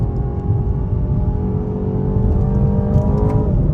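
A 2024 BMW 330i engine revs hard after a downshift into a high-speed turn, a loud, close, steady harmonic drone that climbs in pitch toward the end with no voices.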